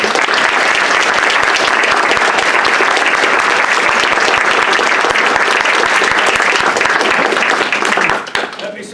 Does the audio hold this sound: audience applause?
yes